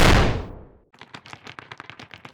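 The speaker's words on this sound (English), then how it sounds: "there's a sound like an explosion and the torch goes out" A sudden loud blast in a fantasy tabletop scene, a broad burst that fades within about a second, then a rapid string of sharp crackling pops like gunfire or firecrackers.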